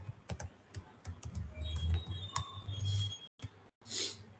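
Keystrokes on a computer keyboard tapping in quick, uneven bursts with short pauses, close and moderately loud, while a Java programming lesson is being written up; no one speaks.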